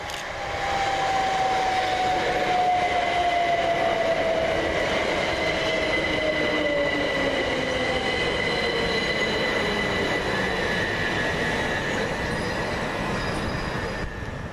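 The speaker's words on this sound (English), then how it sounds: "coming in the opposite direction is 377456, working the 1242 Southern service from Brighton to Port Southampton" A Southern Class 377 electric passenger train runs through Southwick station, its wheels letting out a long, loud squeal that slowly falls in pitch over a steady close rumble of the carriages. The sound continues without a break, with no talking.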